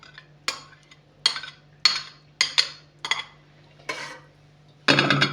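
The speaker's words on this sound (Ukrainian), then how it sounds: "Розмішуємо, додаємо ванільку, щоб пахло" A spoon stirs warm milk into butter in a bowl for a kalyta cake, giving a series of sharp, close clinks and scrapes spaced irregularly, with a soft steady hum underneath and a louder burst of scraping at the end.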